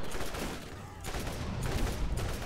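Enemies in the Borderlands video game fire their weapons in dense, rapid bursts. The gunfire clatters loudly and almost continuously, with brief lulls between volleys.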